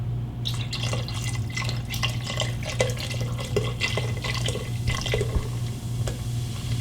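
An 11.2 ounce bottle of Guinness beer poured into a pot of beef broth, a continuous close liquid splashing and bubbling with faint drips, alone without talk.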